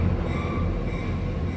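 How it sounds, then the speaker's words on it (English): Interior rumble of an Amtrak Acela Express high-speed train travelling toward New York Penn Station: a steady low roar of wheels and track noise, continuous and moderately loud, with no talking. "The high-speed train whisks us in comfort to our destination."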